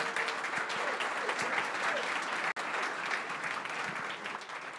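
An audience at a startup community gathering claps in dense, continuous applause that stays even and full, with a brief cut partway through and no talking over it.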